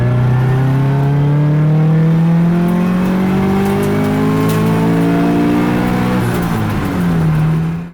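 Turbocharged Scion FR-S running on an E85 tune making a full-throttle power pull, a loud, close engine note rising steadily in pitch for several seconds before dropping off abruptly near the end.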